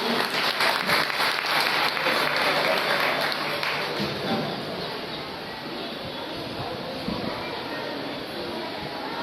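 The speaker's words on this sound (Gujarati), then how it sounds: "એકવાર જોરદાર તાળીઓથી તેમનું સ્વાગત કરીએ" Loud, dense applause from an audience welcoming students at a scholarship ceremony held by a community organisation in Vadodara, steady for about four seconds before easing into a softer, continuing clatter of claps.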